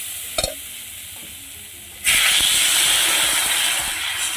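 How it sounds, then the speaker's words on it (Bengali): Water is poured into a pan of fried potatoes for a fish curry, bursting into a loud, steady hiss and sizzle after a brief quiet clink, continuing without talk. "এখন পরিমাণ মতো জল দিয়ে দেব"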